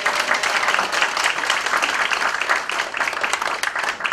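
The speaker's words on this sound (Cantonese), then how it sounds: "所以我哋係應該以熱烈嘅掌聲咧" An audience at a university 40th anniversary party breaks into warm applause, dense and sustained clapping filling the room throughout.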